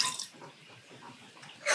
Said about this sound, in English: So to start, we're going to add a quarter cup of water